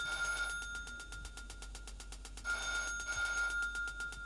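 Several telephones ring together in a TV drama scene, a steady rapid electronic bell pattern repeating in two bursts across the whole stretch, loud and unaccompanied by voices.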